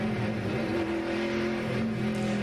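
NASCAR Winston Cup race cars at Martinsville Speedway during the Old Dominion 500, a steady continuous engine drone with sustained harmonic tones as the cars pull off pit road, mid-distance and fairly loud, with no talk.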